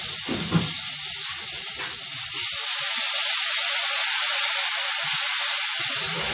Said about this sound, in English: Burn the curry first, then I add the mango with a little scallion, garlic, thyme. And now I make it simmer.